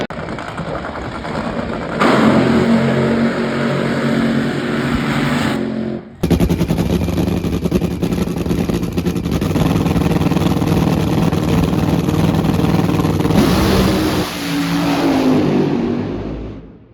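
Nitro drag racing car engines at Bristol, a loud sustained roar with a brief cut near six seconds, then continuous thunderous running before trailing off at the end.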